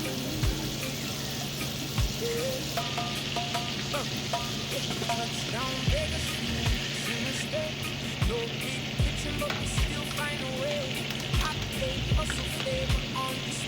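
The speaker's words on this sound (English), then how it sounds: "Let's get the butter to melt it." Butter sizzles steadily in a hot pan for garlic butter shrimp in a hotel room kitchen, a continuous close frying hiss with occasional small pops and clinks.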